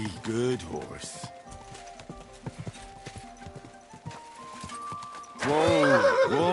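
A horse in the medieval game Kingdom Come Deliverance 2 gives a loud, close whinny near the end, after steady hoof clip-clop and someone speaking soothingly under game music.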